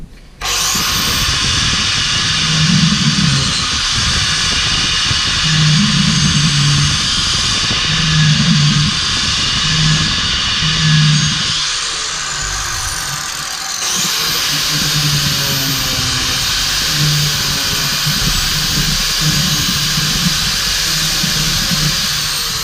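A 4.5 inch angle grinder fitted with a chainsaw wheel cuts grooves into the rounded lugs of a dirt bike tire, giving a loud, steady high whine with rhythmic dips as it bites into the rubber, continuing close and alone.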